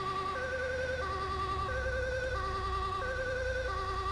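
Two-tone ambulance siren from an ambulance mod in GTA 5, wailing steadily and loudly for the whole stretch with a constant low engine hum underneath and no talk.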